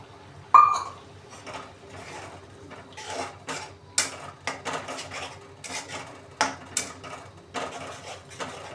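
Spoon scraping and clinking against a metal pan while stirring orange juice, sugar syrup and milk for orange burfee, irregular taps and scrapes repeating at close range, a few sharper knocks standing out.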